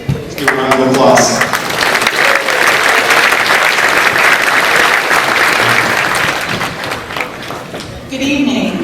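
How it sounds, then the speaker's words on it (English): Sustained audience applause fills a graduation ceremony hall at Northwest Indian College, steady and loud throughout, with some voices and cheers mixed in near the start and end. "Let's give a round of applause."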